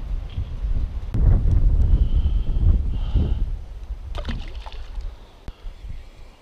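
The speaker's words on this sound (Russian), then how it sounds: "Сейчас ветер поднялся, такой капец." Strong gusty wind blows across a lake during a spinning-rod perch fishing trip, buffeting the microphone with a low, rumbling roar that swells and eases, with a few sharp clicks and taps.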